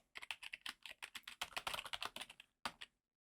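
Rapid run of keystrokes on a computer keyboard, close and fairly quiet, clattering steadily for about two and a half seconds before a short pause and a final burst of taps.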